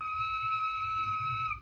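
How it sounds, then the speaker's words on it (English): Little whistle blown in one steady, clear, high tone lasting under two seconds, heard alone and fairly close. "Dorothy blew the little whistle she had always carried around her neck"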